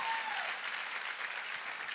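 A church congregation claps during a lively worship service, a sustained, fairly loud burst of many hands that keeps an even density from start to finish with no speech over it.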